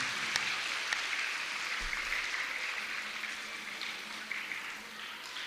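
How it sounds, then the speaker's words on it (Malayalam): Continuous applause from a school audience at an Onam celebration, fairly quiet and distant, with a few sharper claps standing out over the steady patter. "കൈയടിക്കുക എല്ലാവരും"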